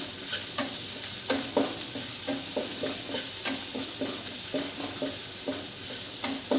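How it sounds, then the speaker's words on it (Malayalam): Sliced onion sautés in a pan with ginger and garlic, a steady close sizzle broken by regular rhythmic scrapes and clicks of a spatula stirring throughout. "സവാള ഇടുക. സവാള ഒന്ന് വഴലണം."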